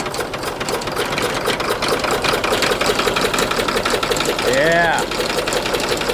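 Old Ford tractor engine running and revved with a little throttle, a steady mechanical chug throughout with a brief rising note near the end, close by, under a short spoken word.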